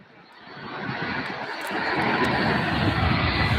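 Boeing 757 jet taking off from SDF airport in Louisville, a broad engine roar that builds over a few seconds and holds loud and steady, heard from a spotting position.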